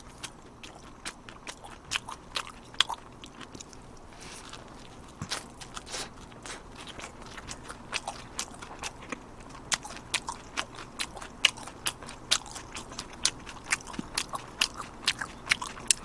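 Repeated crisp crunching bites and chewing on a crispy potato burger, close up and fairly loud, with irregular sharp crackles spread through the whole stretch.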